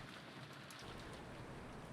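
Steady, dense rainfall from the visual novel game Umineko When They Cry, a continuous hiss of heavy rain that swells slightly louder after the first moment, with no voices.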